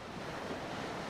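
Ocean waves and surf wash steadily in a continuous soft roar, even and unbroken, with a breezy hiss and no voices.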